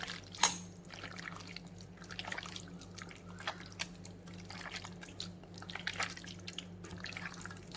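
Water drips from raw chicken being squeezed by hand while it is prepared for a chicken 65 marinade, a series of small, irregular drops and trickles heard close up over a faint low hum.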